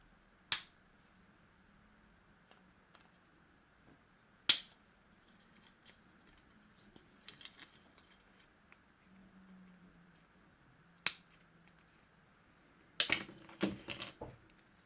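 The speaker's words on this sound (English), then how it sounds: "what we need to do, cut the parts off the tree." Plastic model parts cut from the sprue tree of a 2019 Kyosho Ultima RC car kit: sparse, sharp snips spaced several seconds apart over a quiet room, ending in a quicker cluster of cuts.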